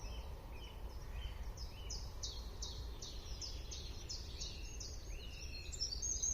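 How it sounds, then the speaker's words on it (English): Faint birdsong in a garden, a series of quick repeated chirps over a low outdoor rumble, sounds a little distant throughout. "I hear the birds singing."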